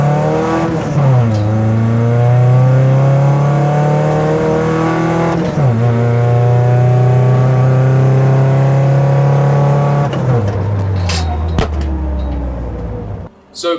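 An endurance race car on its first drive accelerates hard through the gears, with three loud, close rising engine pulls broken by shifts. The engine then eases off near the end.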